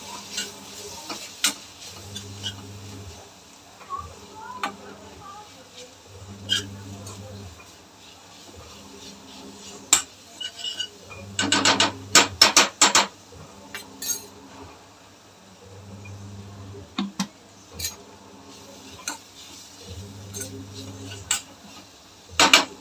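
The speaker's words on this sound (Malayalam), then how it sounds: "ഇത് നല്ലതായിട്ട് വഴറ്റാം." Coriander powder sautéed in a pan for kothu chapathi: a spoon scrapes and clinks against the pan in short, intermittent bursts over a low background hum, with a louder flurry of stirring midway.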